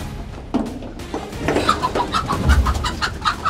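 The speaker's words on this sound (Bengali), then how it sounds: "এই বেচারা মুরগিগুলো ভয়ে কুপোকাত, এদিক ওদিক ছোটাছুটি করতেছিল" Frightened chickens rush around a farm, clucking and squawking up close in repeated sharp calls over a busy, scuffling background.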